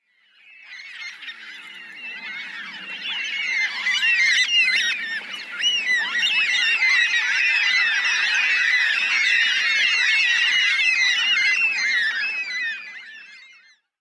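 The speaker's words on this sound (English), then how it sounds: "that was just a short clip of a flock of Carnaby's black cockatoos" A flock of Carnaby's black cockatoos calls in a dense, continuous chorus of overlapping screeching cries, fairly loud and sustained for about fourteen seconds, with no talking.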